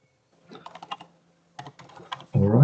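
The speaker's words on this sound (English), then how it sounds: "let's type the password, username password" A password being typed on a computer keyboard: two quick runs of light key clicks separated by a pause, ending with a louder thump.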